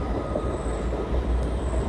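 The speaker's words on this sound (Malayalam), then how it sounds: "ഇവിടെ നിന്ന ട്രെയിൻ കാണിച്ചു" A train passing very close to a house room, a steady loud rumble of wheels and wagons sustained throughout with no voices.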